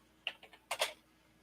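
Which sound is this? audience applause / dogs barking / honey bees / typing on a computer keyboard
typing on a computer keyboard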